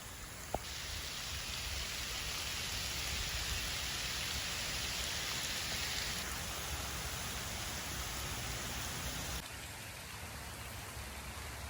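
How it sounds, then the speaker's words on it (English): Steady outdoor rain falls in an even, continuous hiss, heard from shelter under a tree, moderately loud and unbroken, with no voices. "Hopefully the rain passes soon."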